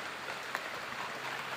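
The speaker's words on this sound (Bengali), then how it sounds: "আমাদের এখানে বৃষ্টি শুরু হলো।" Rain begins to fall outdoors as a brief, even hiss of steady rainfall with scattered drop ticks, fairly faint and without voices.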